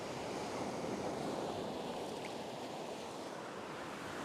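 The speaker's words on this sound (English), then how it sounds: "That shallow sandbar out there is getting all churned up by the waves" Ocean waves breaking and churning over a shallow beach sandbar, a steady broad wash of surf mixed with wind rumble on the microphone, with no clear separate wave crashes.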